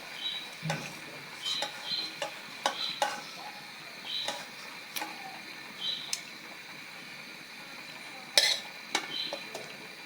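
Light sizzling in a pan as fried climbing perch goes into a vegetable-stem curry, with repeated clinks and scrapes of a utensil against metal, quiet and close, in irregular bursts.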